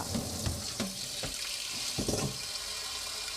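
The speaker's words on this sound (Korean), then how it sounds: "다 데친 청포목은 체에 받쳐 찬물에 헹굽니다." Cold water runs steadily with light splashing as blanched mung bean jelly is rinsed in a sieve. The hiss stays close and constant, broken by a few soft splashes, with no voices.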